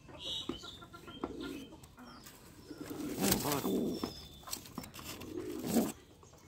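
Soft, low pigeon coos rising and falling close by inside a coop, repeated in short bursts amid light rustling and shuffling.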